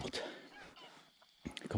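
Geese honk in a few rough, nasal calls at moderate distance, breaking out at the start and again near the end, with a voice mixed in.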